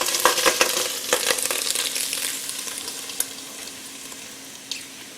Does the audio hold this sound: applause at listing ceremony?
no